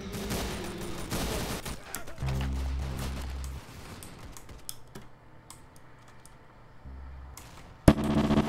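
Rapid gunfire in the Roblox shooter Arsenal: bursts of automatic shots mixed with steady computer keyboard typing and clicking, fairly close and moderately loud, ending in a sharp single report.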